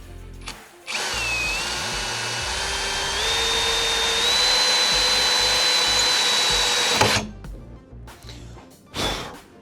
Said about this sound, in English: Special tile drill bit.